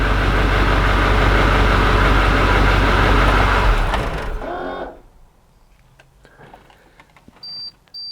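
A 2003–2009 Kodiak/Topkick truck engine idles loudly and steadily, then the ignition is switched off and the engine winds down and stops around the five-second mark, leaving near-silence with a few faint clicks and a brief high tone.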